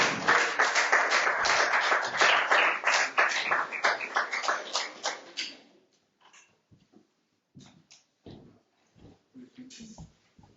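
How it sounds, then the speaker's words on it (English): Steady applause from a crowd at a poetry night fills the first half, then fades out, leaving quiet room noise with scattered taps and shuffles. "Let's give him a round of applause."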